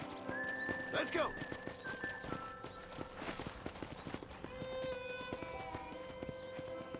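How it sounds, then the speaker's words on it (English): A horse gallops in the Red Dead Redemption video game, steady hoofbeats clip-clopping over game music, with a whinny near the start. Someone talks over it. "let's see if you can still ride a horse"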